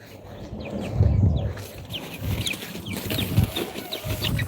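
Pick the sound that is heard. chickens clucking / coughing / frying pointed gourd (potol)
chickens clucking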